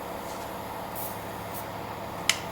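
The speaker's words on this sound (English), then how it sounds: "Give it a little spray." Short hiss of aerosol lubricant sprayed from a can onto a seized universal joint on a 1991-2000 Chevy/GMC K1500 truck, a few faint bursts followed by one sharper close burst near the end, with no talking.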